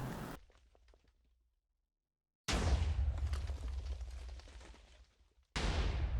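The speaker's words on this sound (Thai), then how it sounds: "ครั้งหนึ่งเคยมีเหตุการณ์ระเบิดปริศนาเกิดขึ้นในหมู่บ้านแห่งหนึ่ง" A mysterious explosion in a Minecraft village: after a quiet stretch, one loud, sudden blast of rumbling noise cuts off abruptly, and a second burst erupts near the end.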